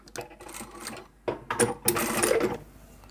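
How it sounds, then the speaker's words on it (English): A home sewing machine backstitching fabric for a beginner glasses case, running in short bursts of motor whir and needle clatter with pauses between them, close by. "when I get to the opening again, I'll backstitch here"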